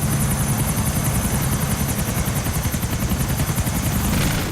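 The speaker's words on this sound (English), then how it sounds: "Notice how my helicopter does not skip." A helicopter in the GTA video game flies steadily, its loud rapid rotor chop and engine whine continuous and close throughout.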